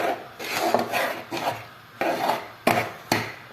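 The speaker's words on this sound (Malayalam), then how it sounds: "ചക്ക ഇതുപോലെ നന്നായി അരപ്പും കൂടെ ചേർത്ത് മിക്സ് ചെയ്തെടുക്കാം." Chopped jackfruit stirred into ground coconut paste in a pot for erissery, giving repeated scraping, rasping strokes of a spoon against the pot, close and fairly loud, in uneven bursts with short pauses.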